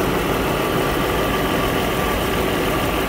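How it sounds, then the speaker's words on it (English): A car engine idling roughly with a misfire while the car is raised in the air, with a loud, steady, close rumble and no voices. "Misfiring like mad."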